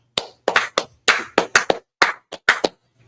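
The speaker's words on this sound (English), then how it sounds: "Clap it up." A dozen or so sharp, separate hand claps ring out close by in an uneven rhythm, with brief silences between them.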